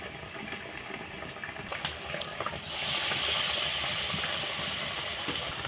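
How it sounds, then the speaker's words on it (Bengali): Bread chop coated in batter sizzling in hot oil, quieter crackling at first, then a sudden swell into a loud, steady bubbling hiss as more goes into the pan. "এই ব্যাটারটা দিয়ে আমি ভেজে নেব"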